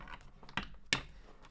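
Tarot cards being shuffled during a reading, two sharp riffling snaps standing out from a low ongoing rustle, close and fairly quiet, with no talking.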